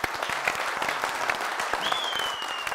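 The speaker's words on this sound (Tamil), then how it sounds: "அதெல்லாம் கைதட்டுங்க" A studio audience at a Tamil television comedy show claps steadily, dense and fairly close, with a brief whistle-like tone rising near the end.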